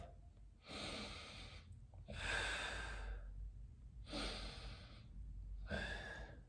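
Person holding a seated forward-bend yoga pose, breathing slowly and audibly in close range, with four long airy breaths separated by short quiet pauses.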